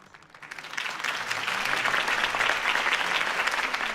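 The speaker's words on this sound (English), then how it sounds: "If only Mr. Wayne, my campaign's largest backer, could have heard that applause" A crowd in a Batman: The Telltale Series scene breaks into applause that swells quickly and holds as steady, dense clapping with some cheering, fairly loud and continuous.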